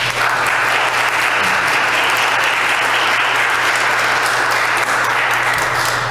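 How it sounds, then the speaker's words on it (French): Congregation applauding during a Catholic Mass in a church, dense and loud continuous clapping from many people filling the whole stretch, with a low steady hum underneath. "je pense qu'on peut applaudir ces personnes-là."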